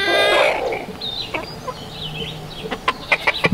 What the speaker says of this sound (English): I hear you, chickens.